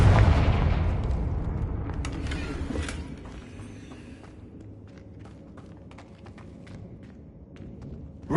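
A Confringo fire spell goes off in the Hogwarts Legacy video game with a deep, loud boom at the start. The rumble fades over several seconds into quieter ambience broken by light ticks and steps.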